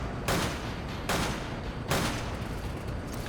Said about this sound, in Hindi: गोलियां वेस्ट हो रही है, लग एक भी ना रहा है